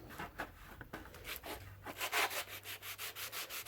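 Rhythmic back-and-forth scratching of sandpaper on a 2x4 sanding block against a wooden knife handle, strokes speeding up into a steady, close rasping pattern.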